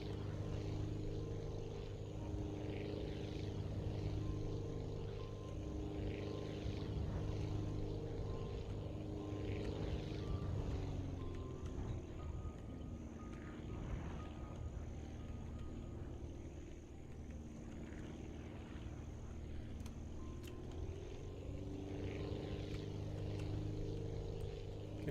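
A propeller airplane engine drones steadily in the Aviassembly flight game, a continuous layered hum with gently shifting pitch that dips and rises as the plane gathers airspeed, heard alone without talk.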